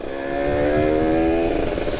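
A modified RR motorcycle engine with an open air filter drones steadily at close range while riding, a continuous buzzing hum with engine rumble and road noise throughout.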